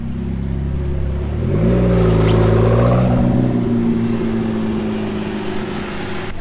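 A McLaren 675LT Spider supercar drives past in Monaco with a loud, steady engine note that rises in pitch as it accelerates, then holds a strong drone close by.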